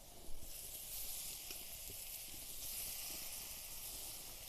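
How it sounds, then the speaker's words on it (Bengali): Onion and ginger frying lightly in a pan for vegetable chops, a steady broadband sizzle and hiss running throughout at moderate loudness with no voices. "পেঁয়াজ আর আদা হালকা করে ভেজে নিয়েছি"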